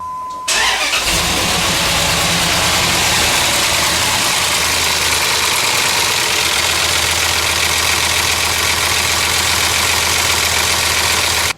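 The 4.7L engine of a 2002 Dodge Ram 1500 starts with a short crank and catches. It then runs steadily at a loud, close idle for about ten seconds, with a broad, rough mechanical rumble.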